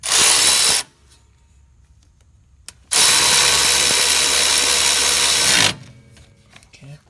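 Ratchet or power tool driving a bolt on the rear brake of a 2001-2005 Toyota RAV4, heard as two loud, steady whirring bursts separated by a quiet pause.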